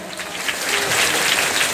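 Audience applause at a public event, a dense crowd of clapping that swells and holds steady for the short stretch with no talk over it.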